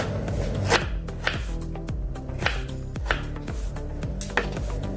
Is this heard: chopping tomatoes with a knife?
yes